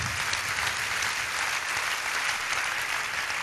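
Steady applause from an audience at a business talk, a dense, continuous clatter of many hands that holds at an even level throughout, with no voices over it.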